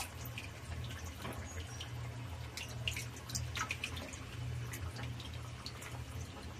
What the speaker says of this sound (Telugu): చింతపండు పులుసు కూడా పోసేద్దాం.